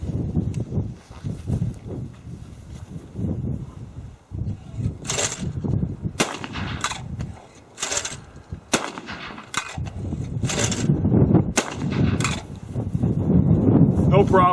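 Steel-receiver Browning B80 gas-operated autoloading shotgun fired outdoors, several sharp loud shots spaced a second or two apart, with someone talking between them.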